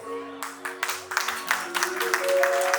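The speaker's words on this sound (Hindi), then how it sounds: "और एक बार तालियां मिलनी चाहिए सुरभि के परिवार की तरफ से।" Clapping from the bride's family at a wedding ring ceremony, starting sparse and building into fuller applause beneath sustained background music tones.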